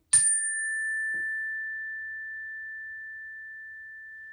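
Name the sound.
chime ringing for breathing exercise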